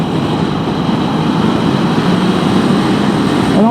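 A camera drone hovers overhead at a road corner while filming a motorbike, its propellers making a steady, loud buzzing drone throughout with no pauses.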